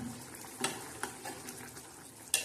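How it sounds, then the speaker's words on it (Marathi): Chana dal and onion cook in a pan, a steady sizzle with a few sharp spoon scrapes and taps as the mixture is stirred, close and moderately quiet. "तर आता आपण परत एकदा असं छानसं हलवून घेऊया."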